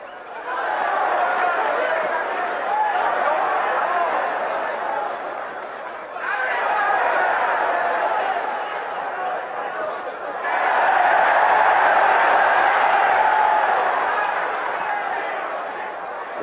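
A boxing arena crowd during the Carlos Monzon vs Jean Claude Bouttier fight roars in excitement, a sustained swelling murmur and cheer in three long waves, with a brief dip between each surge.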